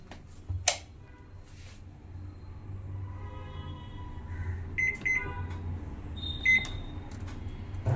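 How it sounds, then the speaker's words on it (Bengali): A microwave oven reheating khichuri gives off a faint, steady low hum, with a sharp click near the start and a few short, thin beeps toward the end. "খিচুড়িটাকে মাইক্রোওভেনে গরম করে নিই খিচুড়িটা মাইক্রোওভেনে গরমে বসিয়ে দিলাম"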